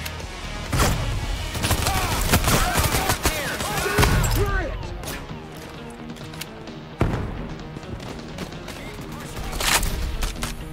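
Gunfire in Payday 3 rattles in rapid bursts of loud cracks amid heavy game noise, with someone talking over parts of it.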